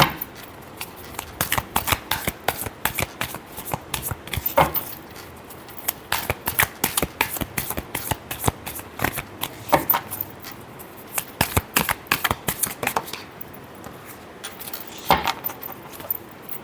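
Tarot cards shuffled by hand in a steady run of crisp riffling and slapping bursts, close and fairly loud, with a few brief pauses between rounds and no talking.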